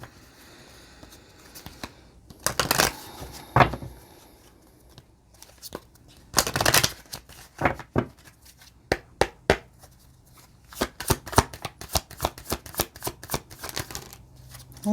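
Tarot cards are shuffled close up in bursts of quick riffling snaps and flutters, separated by short pauses, ending in a rapid run of crisp card slaps.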